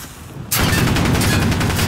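Sudden burst of rapid automatic gunfire in Call of Duty, starting abruptly after a quiet moment and continuing as a loud, dense stream of close shots.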